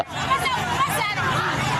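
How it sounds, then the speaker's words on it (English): Crowd besieging the Abofor police station in Ghana, a dense babble of many agitated voices and chatter, close and continuous throughout a brief moment. "Police had a tough time controlling the crowd that besieged the Abofor police station."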